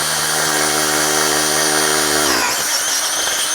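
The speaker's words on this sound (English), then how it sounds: "you're just drilling out one of these holes for the rim lock" A power drill bores out a hole in a motorcycle rim for a rim lock, a steady whining drone that cuts off abruptly partway through, leaving faint rattling after.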